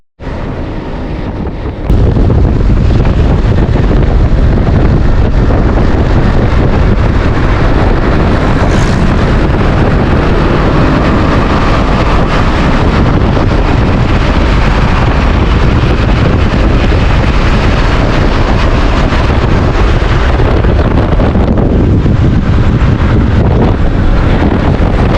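Strong wind roars across the microphone on a long motorbike ride on the road from Bahawalpur to Faisalabad in Pakistan, a loud, dense, continuous buffeting that persists without a break.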